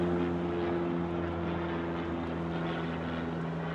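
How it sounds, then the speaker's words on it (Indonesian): A small private propeller plane flies overhead near an airport, making a steady, loud, droning engine hum that holds without a break and has no voices over it. "Jadi banyak pesawat pribadi ya, yang kayak baling-baling gitu di GTA."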